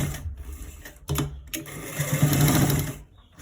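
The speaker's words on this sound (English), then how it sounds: "So we are stitching it straight from the top to the down part." A sewing machine stitching a straight design down the side of trousers, a close, steady mechanical whir with short pauses and restarts.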